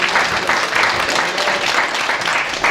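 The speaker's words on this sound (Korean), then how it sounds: "박수로 환영하겠습니다" Audience applause welcoming a speaker to the stage at a 50th-anniversary ceremony for a memorial foundation, a full, loud wash of many hands clapping continuously with slight swells.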